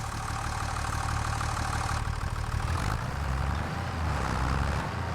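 A tractor engine in a farming video game runs at a steady idle, a loud continuous low rumble with a slight shift in tone partway through, heard alone without talk.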